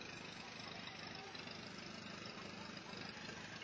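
A classic Farmall tractor engine idles at a festival tractor show, giving a faint, steady, even chug heard from a distance with some background voices.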